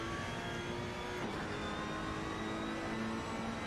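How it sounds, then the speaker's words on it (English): A race car engine in the video game Assetto Corsa drones steadily at high revs at Paul Ricard, a continuous dense roar with a slight pitch change as it accelerates and traction control cuts in slightly. "You can hear the traction control cutting in slightly as he put his foot down."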